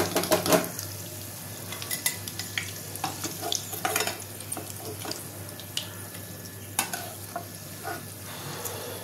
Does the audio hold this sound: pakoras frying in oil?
yes